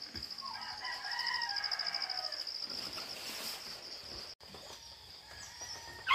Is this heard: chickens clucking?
yes